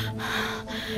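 A man pants hard after running, a second of heavy, breathy gasps up close with no talking, set in a Hindi horror audio drama.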